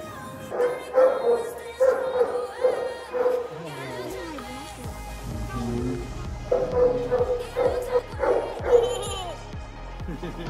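Dogs at a farm sheep show in Rotorua bark and yip in repeated bursts, some howl-like, mid-distance over an outdoor crowd murmur.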